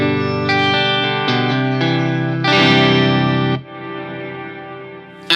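Electric guitar runs through a Mad Professor Kosmos reverb pedal, with sustained chords that bloom into a swelling reverb tail once the playing stops, loud and close with no voices.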